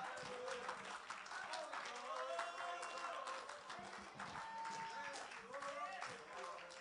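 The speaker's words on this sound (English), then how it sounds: "Go ahead and give a hand clap of God right now." A church congregation claps hands in praise during a worship service, a dense, faint, continuous spread of many hands clapping at once.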